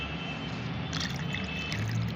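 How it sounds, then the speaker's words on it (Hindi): Water is poured into strained homemade plant fertilizer, a steady, fairly loud liquid pour with a continuous splashing wash and no talking. "छानने के बाद जितना फर्टिलाइज़र है उसका दुगना हमें पानी मिलाना होगा।"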